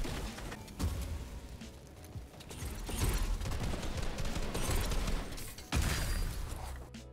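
Gunfire in Fortnite: scattered bursts of shots and sharp pops, some rapid and clustered, come through a busy, moderately loud game mix without talk.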